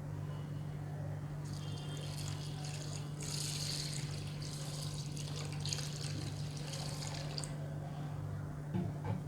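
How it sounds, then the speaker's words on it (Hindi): Lentils are swished and rinsed in water, giving soft irregular splashing and trickling over a steady low hum, with the busiest sloshing in the middle. "इन तीनों को हमें अच्छी तरह से पहले वॉश कर लेना है पानी डालकर"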